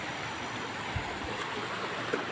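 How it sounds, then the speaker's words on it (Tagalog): A river stream flows with a steady broadband rush of water, close and continuous, with a couple of soft low thumps. "Sa nupulan nga sapa."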